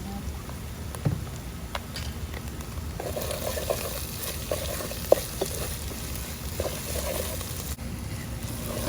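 Ginger and garlic fry for Ethiopian doro wet, a steady low sizzle with scraping stirs from about the three-second mark, continuous and moderately close with no talking.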